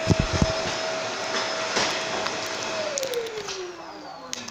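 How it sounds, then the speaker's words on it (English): A household vacuum cleaner runs steadily indoors as a continuous broadband whir, its motor pitch sliding down near the end as it winds off; occasional knocks and faint voices sit in the background. "Okay, the vacuum stopped."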